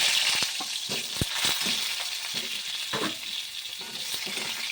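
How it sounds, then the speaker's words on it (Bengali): Potato pieces fry in hot oil in a wok, giving a steady bright sizzle broken by sharp clicks and scrapes of stirring. "আমি কড়াইতে তেল দিয়ে দিয়েছি, তেলটা গরম হয়ে গেছে। আমি এবার আলুগুলো একটু ভেজে নেব।"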